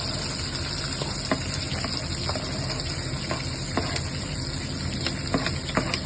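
Chopped onion, added after curry leaves to a hot pan for a potato dish, sizzles steadily and loudly, a dense frying hiss with small crackles and pops and no talking.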